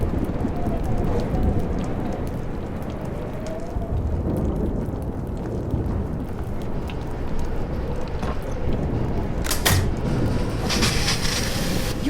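Steady heavy rain pours through a stormy scene in the video game Life is Strange, with a sharp thunder crack near the end over the constant wash.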